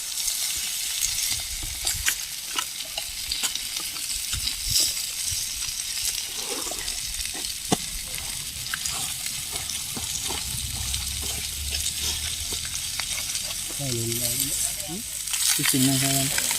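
Tilapia fries in hot oil outdoors on a fishing outing, a steady loud sizzle and crackle running throughout, with occasional stirring scrapes and a few brief voices near the end.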